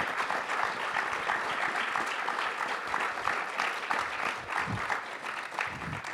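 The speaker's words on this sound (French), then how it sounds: "vous avez le droit, bien sûr, d'applaudir vigoureusement" An audience applauds vigorously as a couple walks onto the stage, a thick, sustained wash of clapping that holds at an even level throughout with no voices.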